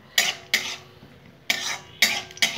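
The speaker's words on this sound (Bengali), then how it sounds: "দিয়ে দিলাম, এগুলো একটু নেড়ে নেবো। কাঁচা লঙ্কাটা একটু ফাটবে" Green chillies and spices stirred in hot oil, with sharp bursts of spatter and scraping that come in short separate pulses, close and moderately loud, with near silence between them.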